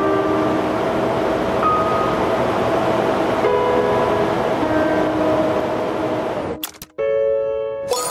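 A train rumbles along the rails in the Rail Route railway game, a steady loud rolling drone with faint tonal hums for several seconds before it cuts off abruptly. A brief different mechanical tone follows.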